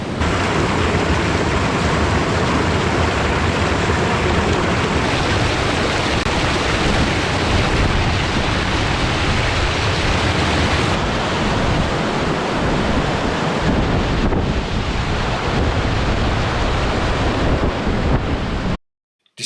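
Rain at Glencoe in the Scottish Highlands makes a loud, constant hiss mixed with gusting wind buffeting the microphone, running unbroken until a sudden cut at the end.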